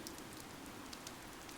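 Rain falling in the video game Fire Emblem: Three Houses, a steady soft hiss of drops on surfaces with occasional brighter patters, faint and continuous with no talk.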